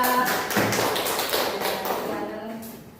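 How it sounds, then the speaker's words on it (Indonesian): A classroom group claps for fellow students after a presentation in an Islamic studies lesson, producing a dense burst of applause that starts loud and gradually fades. "Beri aplaus untuk kelompok"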